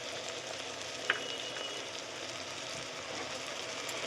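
Spices fry in oil in a pan for vegetarian ghugni, a steady close sizzle and crackle with a single small pop, and no talking.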